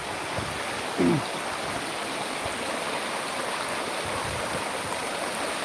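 Water gurgles and rushes steadily in a nearby stream, a constant wash of sound with a brief chirp early on.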